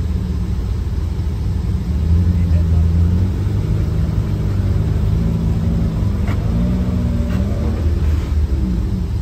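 Jeep Wrangler YJ engine revving while crawling over an off-road obstacle, a close, steady low rumble whose pitch rises and falls in uneven surges as the throttle changes, with outdoor noise around it.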